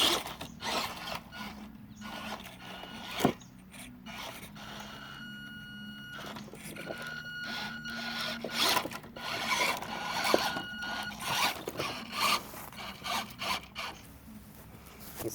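Fayee 180 motor whirring inside a WPL C24-1 RC truck with a slipping axle, a rough grinding, ratcheting drone that rises and falls in close, steady bursts.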